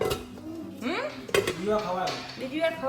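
A lid is set over a cooking pot in a home kitchen where sabudana khichadi is being made. It gives one clear metallic clank among quieter clinks, close by, while voices talk throughout.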